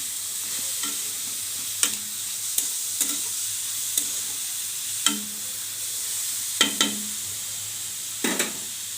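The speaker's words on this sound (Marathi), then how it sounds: "मी बारीक गॅसवर अशा या भाज्या परतून घेत आहे" Vegetables for fried momos sautéing on a low gas flame, a soft steady sizzle punctuated by several sharp clinks and scrapes of a spoon against the pan, close up, with no one speaking.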